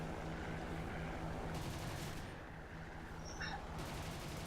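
In the War Thunder video game, B-17 bomber turrets fire machine guns in faint, distant bursts of rapid gunfire over a low, steady aircraft engine drone.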